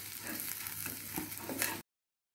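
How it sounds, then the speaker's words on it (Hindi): Sandwich filling of potato and chutney roasts on a tawa with a soft, steady frying crackle and faint stirring scrapes, quiet and close, ending abruptly. "इसी तरह अच्छे तरह से भून लिया हमने इसको। दो मिनट इसको भूनेंगे।"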